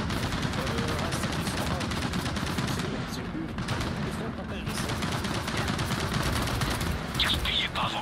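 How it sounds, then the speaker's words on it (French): Machine-gun nests in the video game Gears of War 4 keep up heavy automatic fire, a dense unbroken rattle of rapid shots that carries on loud for the whole stretch. "Des nids de mitrailleuses."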